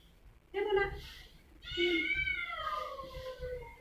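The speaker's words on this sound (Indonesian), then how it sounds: "Ih, gede banget kucing." A large cat meows twice, close and fairly quiet, with a longer drawn-out second call following a short gap.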